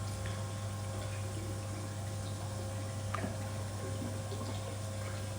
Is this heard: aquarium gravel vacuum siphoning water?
yes